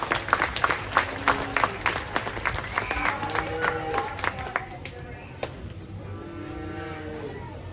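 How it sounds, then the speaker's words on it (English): Applause breaks out among the crowd at a county fair 4-H calf show, with quick claps scattered over a low rumble of voices and calves mooing close by as the clapping thins out. "let's give these guys a round of applause"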